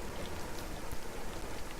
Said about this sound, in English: Now it's raining very loudly.